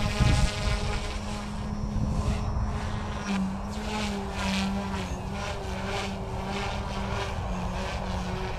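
Goosky S1 RC helicopter flying with a steady high rotor whine and buzzing motor tone, the pitch wavering as it manoeuvres, fairly close and continuous, without talk.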